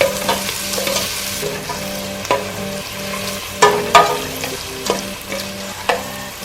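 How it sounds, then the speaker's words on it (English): Collard greens sautéing in a hot pan, loud sizzling with repeated rhythmic stirring and scraping strokes and a low hum underneath, no voices. "Saute for 2 minutes"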